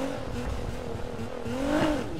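In Need For Speed, a Nissan GT-R drifts on a rain-soaked track, its engine droning and rising in pitch as it revs through the slide, loud and continuous with no talking.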